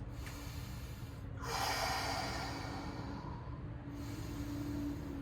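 One long, audible breath during a yin yoga pose, a drawn-out airy exhale rising and fading over a couple of seconds against a steady background hum.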